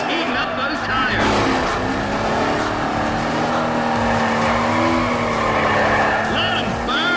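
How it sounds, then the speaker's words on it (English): Tires squeal loudly as a car does a burnout before a drag race in Need for Speed ProStreet, a sustained screeching whine over a revving engine, with a commentator talking over it. "Carol Monroe is heating up those tires"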